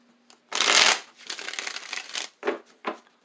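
Tarot cards riffled and shuffled in a loud burst, followed by softer shuffling and two short card flicks, close up with no talking.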